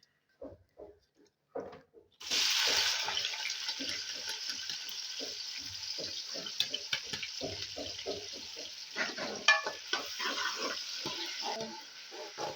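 Onions frying in hot ghee in a kadhai for an Eid chicken polao, a steady close sizzle rising after a couple of seconds of quiet and continuing with scattered stirring clinks and spatters.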